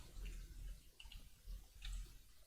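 Water in modded Minecraft 1.10.2 makes a faint, low, continuous lapping and flowing ambience with soft bubbly swells, quiet and close, with nothing else over it.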